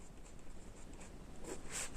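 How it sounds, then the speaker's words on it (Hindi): Pen or pencil writing on paper while an integration problem is worked out by hand, soft continuous scratching strokes, close and quiet, with no talk over it. "तो यहाँ पर लिख देंगे"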